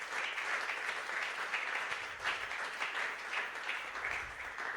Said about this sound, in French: Acclame encore pour la gloire de Dieu.